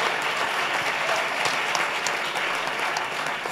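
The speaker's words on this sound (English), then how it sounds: "Please clap for Miriam." Steady audience applause for Miriam, a dense, even patter of many hands clapping, filling the whole moment without talk.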